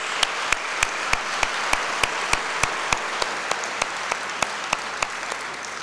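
Audience applause at an awards ceremony of thanks, heard as a steady rhythmic clapping in unison with sharp, regular beats about twice per second, loud and close, with no talking.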